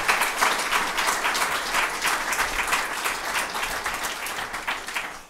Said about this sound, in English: would you please show them a round of applause